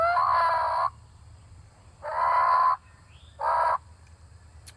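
A mouth turkey call blown to produce a sound gives three raspy, squawking bursts, the first two long and the last short, loud and close with brief pauses between and no speech.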